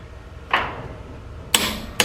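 Torque wrench set to 90 foot-pounds clicking on the crank bolts of a twin disc clutch, three sharp close clicks spaced unevenly, one alone and then two in quick succession.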